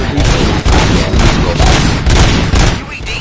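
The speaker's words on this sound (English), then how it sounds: "Gunshots? What's going on?" Gunfire in a RoboCop video game erupts in dense, loud bursts of shots and booms, continuous throughout with game sound layered over it.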